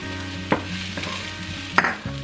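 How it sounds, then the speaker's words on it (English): Garlic sautés in a pan for lemon garlic chicken, a soft steady sizzle broken by a few sharp utensil clinks against the pan. "Go ahead and toss your garlic in."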